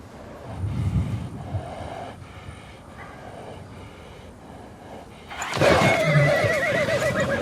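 A Mongolian stallion whinnies loudly and close, a long shaking neigh near the end, preceded by quieter snorts and movement in an open outdoor setting.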